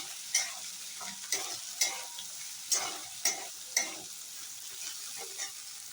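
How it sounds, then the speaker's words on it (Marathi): Boiled potato stir-fried in a pan, with a steady sizzle underneath and a spatula scraping and knocking against the pan about six times at an uneven pace. "आता ह्याच्यात हा उकडलेला बटाटा घालायचा आहे आणि हा सुद्धा चांगला परतून घ्यायचा आहे"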